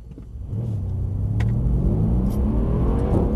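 A Mercedes-AMG C63 launches hard off the line, its engine rising from a low rumble into a loud, steady climbing roar up close, with no talking.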